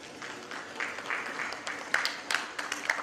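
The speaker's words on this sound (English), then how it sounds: "Let's have a huge round of applause for Mr." Audience applause at a regulatory conference in India, a dense patter of many hands that swells with sharper claps near the end, heard at moderate distance in a large hall.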